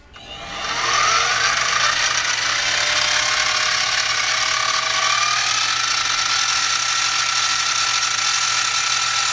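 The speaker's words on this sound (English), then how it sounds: "And it's drill again." A drill bores a hole through a metal workpiece while making a centerline finder, a steady loud whirring grind that ramps up at the start, with a rising whine as the bit cuts, continuing alone without talk.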